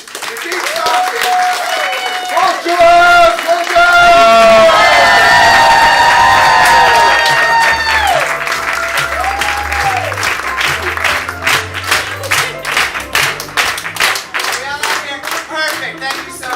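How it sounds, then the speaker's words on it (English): An audience at an improv comedy student showcase claps and cheers loudly, with whoops and shouts rising over sustained applause that continues steadily throughout. "Get your hands clapping, your feet stomping."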